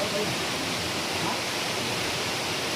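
Waterfall near a hill temple: a dense, steady broadband rush of falling water, loud and unbroken throughout.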